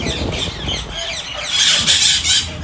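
Birds at an open bird park squawk and squeal in loud, overlapping shrill calls, close to the listener, growing denser toward the end, with some background noise.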